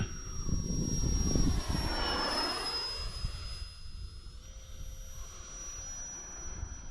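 A small foam RC jet with a 3-cell electric motor flies past, its high whine sweeping down in pitch as it passes close and then fading to a steadier, more distant drone.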